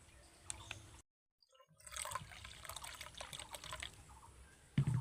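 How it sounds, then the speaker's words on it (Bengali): Water poured from a measuring bowl into a bowl of gram flour to make boondi batter; after a brief silence comes a steady, close pour lasting a few seconds, ending with a soft clatter. "3 ভাগ জল আমি নিয়ে নেব"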